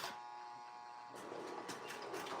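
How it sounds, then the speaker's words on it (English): E unit of an O gauge model train locomotive running on a layout, a faint buzzy electrical hum that turns rougher and more clattering midway, quiet and close. "that sound you hear is actually the E unit."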